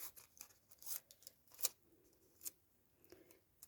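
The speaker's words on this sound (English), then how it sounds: "I'll just snip that off." Scissors snip through thin transparent material in a few quick, crisp cuts, close and fairly quiet, with brief gaps between snips and no talking.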